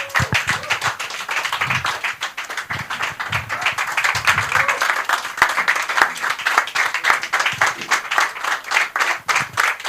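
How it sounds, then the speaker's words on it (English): A crowd at an institute event applauds a facilitator with loud, steady clapping that runs the whole time, with individual claps standing out close by. "please a round of applause for him"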